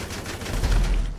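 Rapid gunfire from a video game, a dense burst of shots aimed at a tanker truck, loud and close, with a heavy low rumble building toward the end and no talking.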